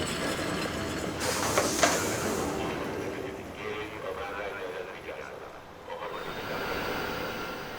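Austrian ÖBB locomotive 116072 pulls into a Budapest station from the west, with a fluctuating rumble and rail noise over busy station ambience and indistinct voices.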